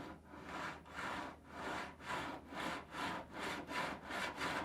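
Sandpaper at 180 grit scrubbing body filler on a Porsche 911 wheel arch, a close, steady rasp in about nine even back-and-forth strokes with no voices.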